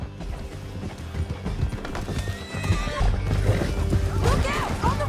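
Horses gallop in Red Dead Redemption 2 during a chase with bounty hunters, giving rapid, busy clip-clop of hooves with a whinny, crashing impacts and voices mixed in.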